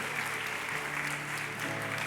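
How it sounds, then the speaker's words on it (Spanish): A church congregation applauding during a worship service, with dense, sustained clapping that fills the room steadily from start to end, no voices standing out. "dale un fuerte aplauso al Señor"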